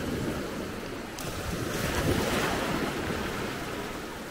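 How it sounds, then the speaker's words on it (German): Gentle sea waves lap softly on a calm, glassy sea at Maspalomas, Gran Canaria, a steady continuous wash with light wind noise and no voices. "Es sind nur so dahin schwappende Wellen."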